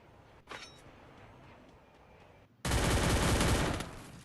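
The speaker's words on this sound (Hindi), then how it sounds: "और सोनू किंग ने मार दिया ओपी दरबार को। कमाल का हेडशॉट" Gunfire in the Free Fire battle royale game during a solo tournament, a faint shot early on, then a loud sustained burst of rapid automatic fire for over a second.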